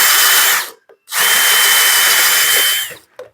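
A power drill fitted with a chamfer tool cuts into metal in two loud bursts, a short one followed by a longer steady whine, each stopping abruptly.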